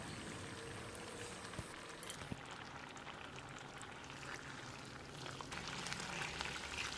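Egg avial gravy simmers in a pan on the stove, a soft continuous bubbling and faint sizzle with a few small pops, quiet and close, with no voices.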